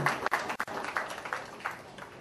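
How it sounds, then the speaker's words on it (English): Moderate applause from an audience at a health and nutrition book event, a steady patter of clapping with a few sharper individual claps standing out. "So huge round of applause for your papa"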